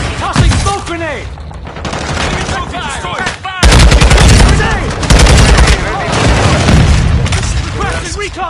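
Smoke grenade toss and gunfire in the video game Modern Warfare 3: dense bursts of shots and booms fill the whole stretch, loud and continuous, with game voice callouts mixed in.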